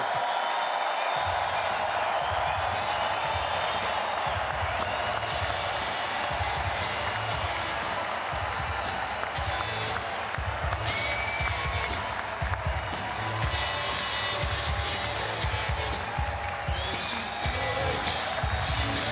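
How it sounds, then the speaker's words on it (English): A large Republican National Convention crowd in 2016 roars and cheers continuously after Donald Trump's speech, a dense, loud, sustained wall of voices and applause with scattered whistles and shouts. "Donald Trump whipping this crowd into a frenzy"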